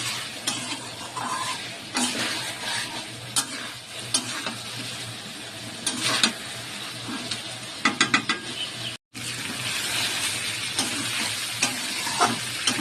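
Mustard masala for a hilsa fish curry sautés steadily in a pan, with a continuous sizzle and repeated scraping, stirring strokes close by and no talk.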